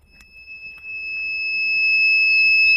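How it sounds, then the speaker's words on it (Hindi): A homemade solar-powered soil moisture alarm for plant watering sounds a steady high-pitched electronic tone, holding constant and growing louder across the clip after a few faint clicks at the start. "आप सभी देख सकते हैं हमारा अलार्म ऑन है।"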